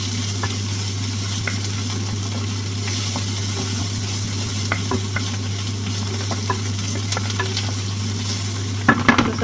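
Onion and garlic frying in olive oil, a continuous close sizzle with repeated scraping stirs and light spatula taps against the pan, under a steady low hum, without speech.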